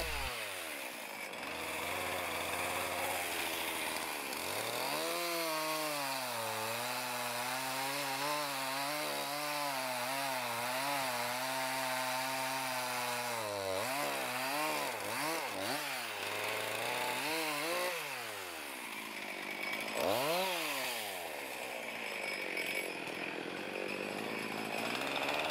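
Chainsaw cutting firewood logs to wood stove length at an off-grid log cabin in winter, revving up, bogging into steady cuts and winding down between pieces, loud and close with no talk.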